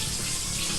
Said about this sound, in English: Sink water!